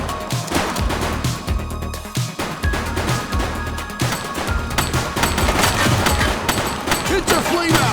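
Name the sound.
gunfire in the video game The Precinct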